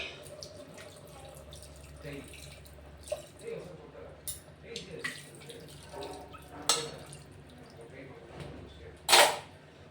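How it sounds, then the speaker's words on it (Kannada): Two glasses of water are poured into a pot of methi rice, a soft trickling splash with a few drips and one sharp louder splash near the end, while a voice talks intermittently. "ಈಗ ಎರಡು ಗ್ಲಾಸ್ ನೀರು ಹಾಕೋತಾ ಇದ್ದೀನಿ"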